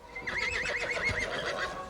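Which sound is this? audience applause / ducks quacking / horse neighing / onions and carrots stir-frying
horse neighing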